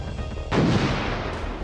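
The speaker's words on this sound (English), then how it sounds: "We'll go right cannons because our left one's just fired." A single heavy ship's cannon blast booms out in the video game Furious Seas, followed by a rumbling roar that slowly fades, with a crackle of debris at the tail.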